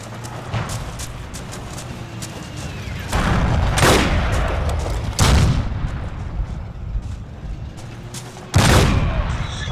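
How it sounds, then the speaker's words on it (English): Grenade blast and rifle fire in the World War II shooter Forgotten Hope 2, set at Tobruk: several loud sharp bangs and booms a few seconds apart over a constant battlefield rumble. "I throw a grenade inside."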